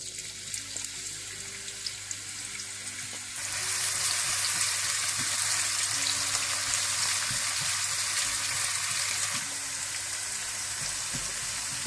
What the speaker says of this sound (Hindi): इसके बाद आपने प्याज डाल लेने हैं।